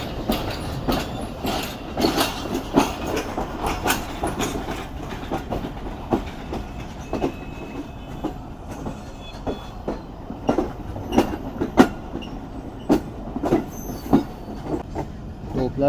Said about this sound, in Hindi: ये मेन लाइन पर जो प्लेटफॉर्म है इसी पर लग रही है ट्रेन